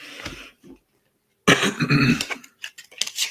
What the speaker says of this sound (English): It's like a yawn cough.